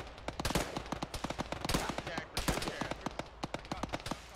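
Machine gun fire in the military game Arma during a ShackTac squad session, bursts of sharp, rapid shots at close range with brief pauses and some quieter reports further off, no one talking.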